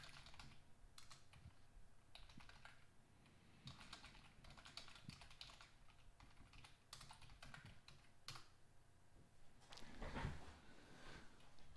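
Fast, steady clicking of computer keyboard keys, close and faint, in irregular bursts with a few heavier keystrokes, without talking.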